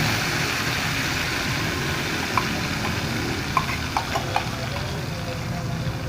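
Yogurt-marinated spice mix frying in hot oil in a pan, a steady broadband sizzle throughout with a few brief clicks of stirring near the end, no talking.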